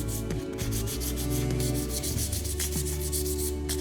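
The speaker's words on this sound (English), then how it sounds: "I want to come back with a little bit of 400 sandpaper, 400 grit, and you see how I'm sanding it?" Painted decorative trim being hand-sanded with 400-grit sandpaper: a close, steady run of soft rhythmic rubbing strokes, quiet and alone with no voices.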